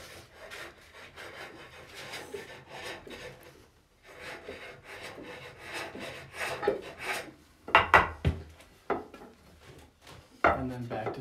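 Wood being cut on a foot-powered pole lathe with a hook tool, giving irregular rubbing and scraping strokes in a rhythmic back-and-forth, fairly close and quiet, with a few sharper scrapes toward the end.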